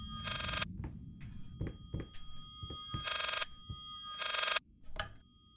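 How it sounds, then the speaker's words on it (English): A telephone rings in the video game Layers of Fear. There are three bursts of bright electric bell ringing separated by pauses, with scattered low thumps and knocks between them and nobody talking. "It's a phone ringing, that's what it is,"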